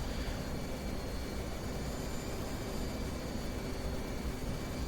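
An F/A-18C jet in a DCS flight simulation roars with a steady, dense broadband engine rush, unchanging and loud throughout with no voices.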